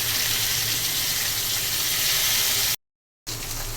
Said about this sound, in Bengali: তেলটা দিয়ে দিচ্ছি মাছটা ভাজার জন্য। দিয়ে দিচ্ছি মাছটা